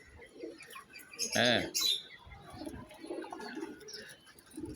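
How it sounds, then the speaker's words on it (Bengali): Pigeons coo softly on a rooftop on a rainy day, a few low, rolling calls near and fairly faint, with a person briefly speaking. "এই সুস্থ কবুতরগুলো আমি এখানে নিয়ে আসছি"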